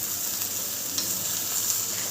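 Chopped long beans (achinga) sizzle steadily in a hot pan while being stirred, Kerala sadya style, with a dense, continuous frying hiss and faint scraping from the mixing.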